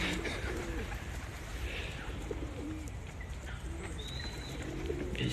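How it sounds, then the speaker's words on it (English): A parakeet perched on someone's shoulder outdoors in London gives soft, brief calls amid a noisy open-air background, with other birds and faint chirps mixed in, fairly quiet overall. "The same bird keeps getting back on my shoulder."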